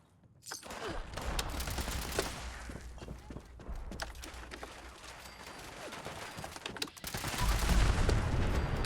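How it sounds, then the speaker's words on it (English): Loud, dense explosion and gunfire rumble in the video game Fallout 76, continuous for several seconds, with a brief dip and then a louder burst near the end. "Nice explosion"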